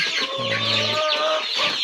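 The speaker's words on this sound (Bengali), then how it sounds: "আমি কিছু ব্রয়লার মুরগি রাখছিলাম ডিম পারানোর জন্য" Several broiler hens about four and a half months old cluck and squawk close by in a busy, overlapping chorus, with one drawn-out call standing out.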